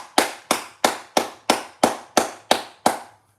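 Nine sharp hand claps land close and loud in an even, steady rhythm about a third of a second apart, each one ringing out briefly before the next, then stop.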